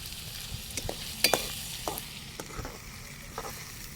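Onions frying in a pan are stirred in a few scraping strokes over a steady sizzle, with one sharper clatter near the middle; close and fairly loud, with no voices.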